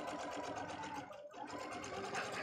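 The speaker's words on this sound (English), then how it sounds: "I'm going to sew a quarter of an inch over" A Pfaff Icon 2 sewing machine stitching a seam, a fast rhythmic whirring chatter that briefly pauses and resumes, faint and close.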